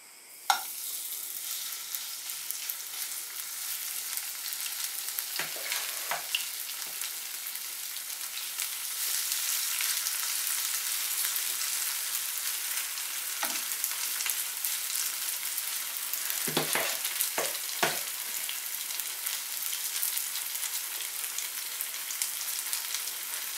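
Zucchini batter fries in hot oil in a pan, a steady close crackling sizzle throughout with a few soft clinks and stirring scrapes, and no voices.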